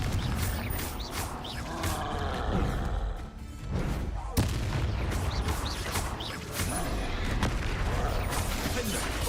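Confringo fire spell blasts from Hogwarts Legacy thud and boom one after another in dense, chaotic combat. A sharp impact cuts through midway, and scattered voices sit under the noise.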